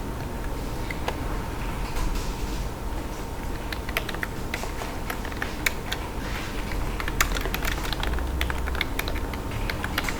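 Typing on a computer keyboard while entering text in AutoCAD: steady, fairly faint clicking of keys with sharper scattered taps, continuous through the clip, no talking.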